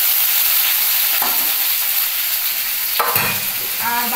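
Tomato frying in a pan with ginger paste gives a steady loud sizzle, broken by a few scraping stirs of a spoon against the pan, close up with no talk.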